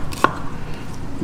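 A knife cuts thin slices of shallot on a cutting board, giving one sharp close chop against a steady low background hum, with no talking.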